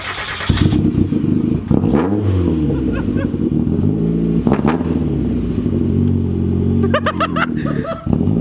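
Real car fitted with toy wheels revving and rolling, a loud, steady engine drone with rising and falling revs plus rattling clatter from the wheels, close by.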